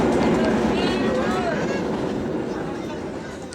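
Passenger train rolling along rails during a first train journey in Java, a steady loud rumble with faint rhythmic clatter throughout, with voices and background chatter mixed in.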